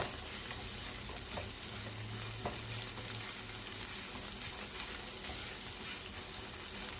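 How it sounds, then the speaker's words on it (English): Egg fried rice sizzling in a pan while turmeric powder is stirred in, a continuous quiet frying hiss with scraping stir strokes and occasional light clinks, no voices. "Sprinkle a little bit of the turmeric powder and give it a stir"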